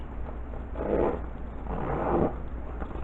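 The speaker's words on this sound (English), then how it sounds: "Really high quality zipper there." Two soft, raspy zipping strokes close by from a bug out bag zipper, each about half a second long, over a low background hum.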